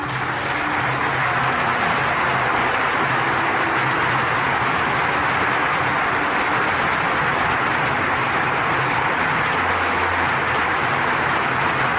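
A round of applause from an audience rolls on as a dense, steady wash of clapping, loud and unbroken for the full length with no voices over it.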